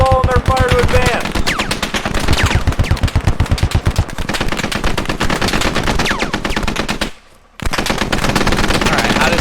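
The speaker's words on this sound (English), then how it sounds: "Suppress the enemy machine gun positions and use the lull in their fire to advance." Machine gun fire in the tactical shooter Squad, rapid sustained automatic bursts loud and close, nearly unbroken with a brief pause near the end, while a voice speaks early on.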